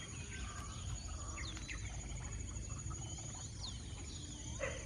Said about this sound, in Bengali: ডাক পাখির ডাক